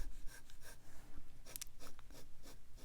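A Sailor fountain pen nib writing on paper, giving a faint close scratchy stroking in short repeated strokes with quiet breathing in the background.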